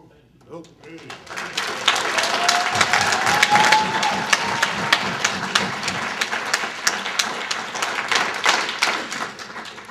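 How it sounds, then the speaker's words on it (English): Audience applause at a mining listening session in Ashland, Wisconsin, swelling into steady dense clapping from a crowd in a hall, sustained for several seconds with some voices mixed in. "I guess I don't mind applause after that"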